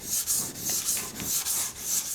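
Scandi grind of a Mora knife stroked across a wet whetstone, rhythmic gritty rasping passes about every third of a second, close and fairly loud.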